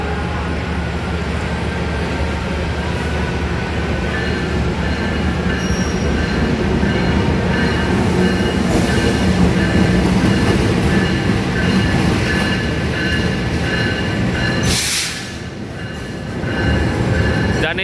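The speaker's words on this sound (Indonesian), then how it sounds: "di sana terdapat KA yang akan datang dari arah timur" A passenger train arriving at a small Indonesian station rumbles loudly past at close range with heavy rolling noise and a brief screech of wheels, continuing steadily throughout.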